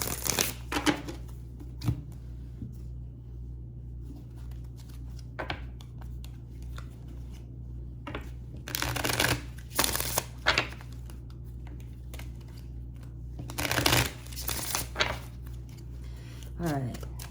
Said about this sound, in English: I'm going to shuffle the cards first